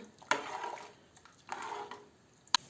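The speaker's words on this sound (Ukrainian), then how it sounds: "розмішуємо, аби він закипів" A pot of Polish-style borscht is stirred while it comes to a boil: two slow, soft scraping strokes of a spoon against the pot, then a single sharp clink, all faint and close, without speech.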